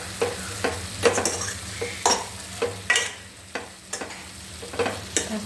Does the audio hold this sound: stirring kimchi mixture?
yes